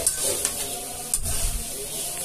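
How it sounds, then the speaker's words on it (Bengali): Chopped sweet pumpkin tipped into spices frying in a pan for a hilsa fish curry, a steady low sizzle with faint clinks and stirring throughout. "এখন আমি এর মধ্যে আমি যে মিষ্টি কুমড়াগুলো কুচি করে রেখেছিলাম সেই মিষ্টি কুমড়াগুলো ঢেলে দিলাম"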